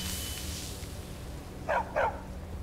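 A dog companion in the Skyrim video game gives two short barks close together, heard over a low steady game ambience with a faint hum.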